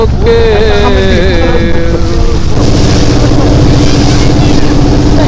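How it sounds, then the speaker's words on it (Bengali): A boat travelling on the Shitolokkha river, its engine drone and water noise loud and steady throughout, with a voice speaking over the first half before the motor carries on alone. "আমরা এই যে নৌকাতে যাচ্ছি এই যে ঢেউগুলো অনেকটা জোরে জোরে"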